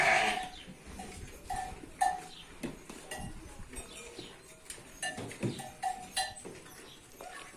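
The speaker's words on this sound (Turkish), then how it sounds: "Burada keçiler de var." Goats bleat in short cries at close range amid rustling and shuffling, with a few calls overlapping in an uneven rhythm.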